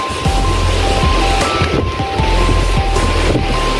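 Rough sea churning during a typhoon signal No. 8 in Hong Kong, a loud, continuous roar of surf mixed with gusting wind buffeting the microphone, with no talking.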